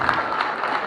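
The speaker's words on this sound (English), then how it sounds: "Give him a round of applause." Applause from a live audience at a hip hop show, a steady dense wash of clapping with crowd noise for about a second, no clear voices.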